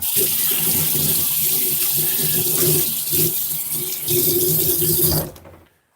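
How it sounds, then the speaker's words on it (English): Hands are rinsed under a running kitchen tap, a steady close splashing stream with fluctuating gurgles as hands move through the water, lasting about five seconds before the flow is shut off. "just going to wash my hand off a bit"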